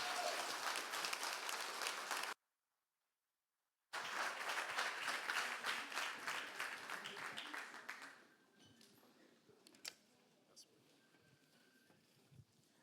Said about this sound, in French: On peut applaudir le Seigneur de tout notre cœur.